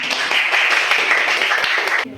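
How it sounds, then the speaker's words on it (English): A classroom of students applauds a classmate, a short, bright round of clapping that stops abruptly, leaving a faint voice-like hum. "Give applause to Adele."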